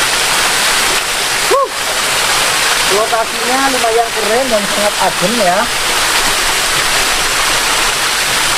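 Mountain waterfall and stream behind a forest, a steady broadband rush of falling water filling the whole clip, with someone speaking over it partway through.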